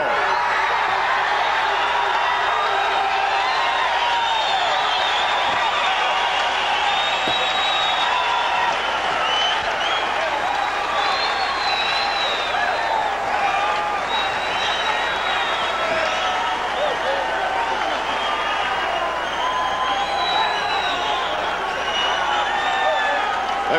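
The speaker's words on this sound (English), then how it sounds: "The crowd is really loving it here in Toledo, Ohio." Boxing crowd in an arena in Toledo, Ohio, cheering and applauding: a dense, steady roar of voices, whoops and clapping fills the whole stretch, with talk mixed into the din.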